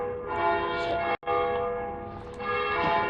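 Church bells ring in a dense, sustained peal of overlapping tones with a brief drop partway through, loud and steady with no talk.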